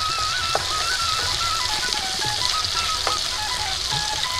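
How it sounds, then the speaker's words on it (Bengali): Bay leaves and panch phoron spices sizzle and crackle steadily in hot oil, a dense close-up frying hiss with occasional sharper pops throughout. "দিয়ে দিচ্ছি দুটো তিনটে তেজপাতা আর একটু পাঁচফোড়ন দিচ্ছি। ফোড়নটা ভালো করে ভেজে নেব।"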